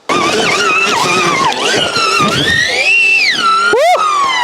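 An Electric Motion electric trials bike, 2022 or 2023 model, works a harder test section with a continuous high whine that climbs and falls in pitch as the throttle changes, plus a sharp rising squeal near the end.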